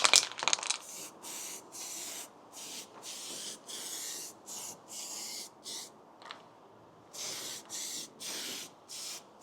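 An aerosol can sprays primer filler onto Harley Davidson motorcycle side panels in a series of short hissing bursts with brief pauses between them, close and fairly loud, after an opening clatter.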